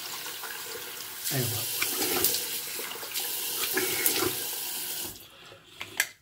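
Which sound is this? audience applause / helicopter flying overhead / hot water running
hot water running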